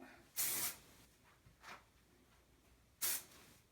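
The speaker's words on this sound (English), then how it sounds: "I'm going to go in with my texture spray and just start kind of spraying down" Short hissing bursts from a texture spray bottle sprayed onto hair: two strong sprays with a fainter one between, close by in a quiet room.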